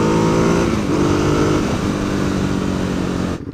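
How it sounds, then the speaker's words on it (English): A Ducati Hypermotard motorcycle engine drones steadily and close while riding, a loud continuous rumble with a slight pitch shift midway before it cuts off abruptly at the end. "I've just been riding a motorcycle"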